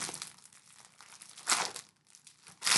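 A sealed plastic bag from a parcel of mail being handled and pried open, giving close, quiet crinkling and rustling in short bursts with brief pauses between them.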